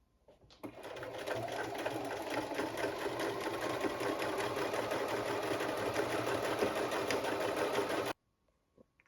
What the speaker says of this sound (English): I just love making these quilt lines on the fabric.